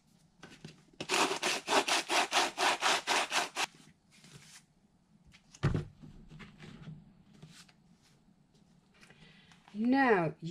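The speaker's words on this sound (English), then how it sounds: "You sand the rough edges to smoothen it." Rough edges of a Dollar Tree craft piece sanded smooth, a burst of about ten quick rhythmic back-and-forth scraping strokes, then scattered softer rubs and a thump, with a voice briefly at the end.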